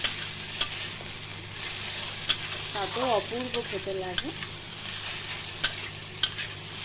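Onions sizzle and fry in a pan together with eggplant and potato for a Bengali fish curry. The steady close hiss carries scattered utensil clicks, and a voice speaks briefly in the middle.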